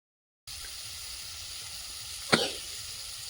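Capsicum and prawns frying in hot oil in a pan give a steady, close sizzle with one brief sharper hiss and crackle partway through.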